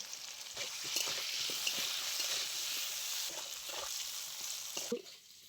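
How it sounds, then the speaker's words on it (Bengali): Potatoes sauté in mustard oil with salt and turmeric, giving a steady soft sizzle broken by scraping stirring strokes at an unhurried pace. "এবারে আমি প্রথমে আলুটা খুব ভালো করে কষিয়ে নেব।"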